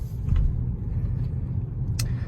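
A 2023 Kia K5 GT-Line car with a JB4 tuner and Shark Racing intake drives along, a steady low engine and road rumble heard from inside the cabin, with a brief higher hiss near the end.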